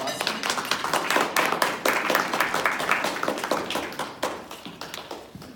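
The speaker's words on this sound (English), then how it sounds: "so give him a round of applause." Club audience at a Paradise Valley Women's Conservative Club meeting applauding its vice president: dense, steady clapping from many hands, fairly close and sustained throughout with no talking over it.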